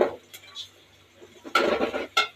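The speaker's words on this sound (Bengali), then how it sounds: "লাড়া দিয়ে দিতে হবে।" A spoon clinks and scrapes in a cooking pan while turmeric, chili, cumin, ginger, garlic and salt are stirred for an egg curry, giving a few short metallic knocks between quiet gaps, close up.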